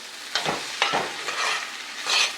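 Bitter melon (carilie) frying in a pot being stirred with a utensil, a few short scraping strokes over a soft sizzle, close and moderately loud with no talking.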